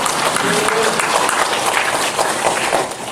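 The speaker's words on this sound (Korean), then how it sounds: "우리 박수로 감사하고 하나님께 영광을 드리겠습니다" Congregation applauding in a church after a choir ensemble's hymn at a Sunday afternoon service, a dense steady wash of clapping that fills the room and tapers slightly at the end.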